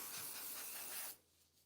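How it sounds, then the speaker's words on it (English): A spray is applied while styling layers, giving one close, brief hiss of about a second that cuts off into quiet. "So we're just gonna keep spraying."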